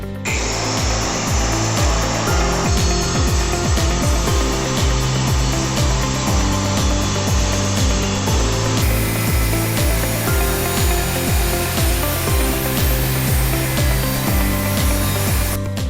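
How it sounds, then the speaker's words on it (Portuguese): A power saw trues the edges of a porcelain tile countertop piece with a recessed section. It makes a loud, steady, close whine with a grinding edge that runs unbroken the whole time. "E agora eu vou passar a serra e vou retificar de novo."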